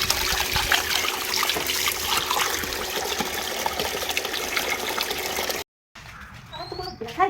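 Water runs from a tap that has been left on and fills a container, making a steady, close rushing trickle. It stops abruptly near the end, followed by faint room sound.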